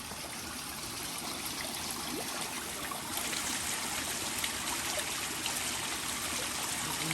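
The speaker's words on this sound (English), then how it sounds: "you can just hear the water just running" Rainwater runs and trickles steadily outdoors on a foggy night of light drizzle under flood warnings, a soft continuous wash with no voices.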